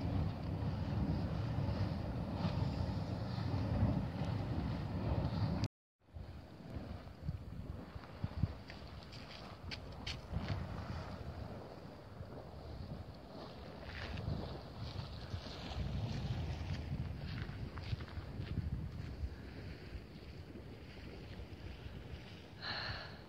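Strong wind buffets the microphone at Yellowstone, a steady roaring rush with gusty swells throughout and one brief dropout near the start, with no other sound on top.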